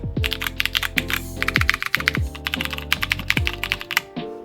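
Fast typing on a mechanical keyboard with newly installed switches, a dense run of crisp clacks and deeper thocks up close, uneven in rhythm with a few louder keystrokes.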